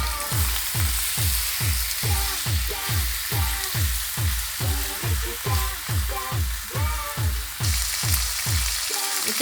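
Turmeric, cumin powder and shelled peas fry in a pan, a constant hissing sizzle overlaid by a fast, steady run of rhythmic scraping strokes from a spatula, close and without any talking.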